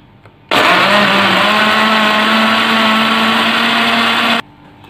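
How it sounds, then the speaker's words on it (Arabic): A blender mixing red and green grape juice switches on abruptly and whirs loudly at a steady high speed for about four seconds, then cuts off, leaving quiet room noise. "بعد ما حطينا الفاكهه في العصير والمكونات بتاعتنا، هنشغل الخلاط."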